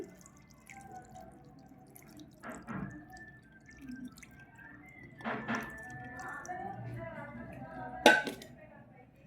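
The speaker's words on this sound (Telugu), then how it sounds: "ఇప్పుడు ఆయిల్ కూడా అయితే వేసేసుకుందామండి" Oil poured into homemade bitter gourd pickle in a kitchen, heard as a few soft drips and splashes with light clinks of a utensil against the container, quiet and close, with faint talking in the background.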